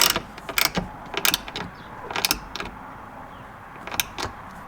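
Small fastener on an Audi S5 sunshade assembly being tightened by hand, giving several short, sharp ratcheting clicks in separate bursts, close up and fairly quiet.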